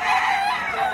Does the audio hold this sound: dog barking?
no